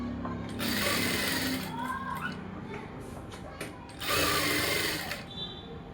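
A sewing machine stitching blouse fabric runs in two short, fast whirring bursts separated by a pause, close and moderately loud, with a quiet voice speaking between and around the stitching.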